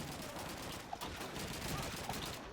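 Distant enemy gunfire in Call of Duty 2, with scattered faint shots and pops under a steady wash of battlefield noise and no voices over it.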